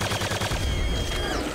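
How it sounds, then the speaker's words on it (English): Rapid gunfire from a weapon in the video game Quake 2 rattles off in a quick burst of loud, closely spaced shots, with no talking. "It's the gun the space babies have."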